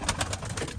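Soft, rhythmic cooing of a pair of Turkish tumbler pigeons, a quick run of low pulsing coos close by against faint background noise.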